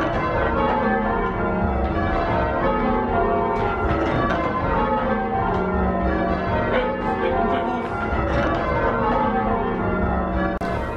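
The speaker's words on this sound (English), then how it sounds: "Triples means to ring on 7 bells, but you can probably count 8 bells ringing" Eight church bells ring Stedman Triples in an American bell tower, a dense, continuous tumble of overlapping clangs in steady change-ringing rhythm, loud and resonant throughout.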